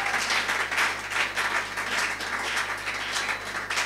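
A church congregation claps and cheers in praise during a French-language sermon on marriage, a dense, sustained wash of applause rising and falling in waves for several seconds, fairly loud and without speech over it.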